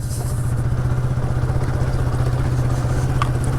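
A motorcycle rides along a narrow rough village road, its engine throbbing in a steady low pulsing drone with close rattling clatter, loud and continuous throughout.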